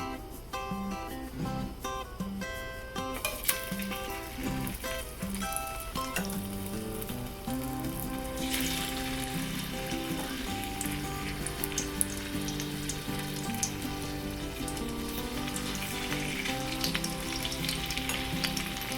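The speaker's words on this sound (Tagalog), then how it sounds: "Ngayon po ay ipiprito na natin tong ating spam." Spam fries in a pan for a Spam and pechay dish, a soft, even sizzle with scattered spits running steadily beneath background music.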